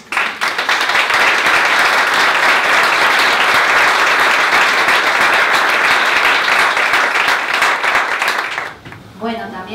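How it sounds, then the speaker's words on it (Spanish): Sustained, dense audience applause at a talk, loud and even for several seconds before cutting off as a voice begins. "Así que también un aplauso para ellos"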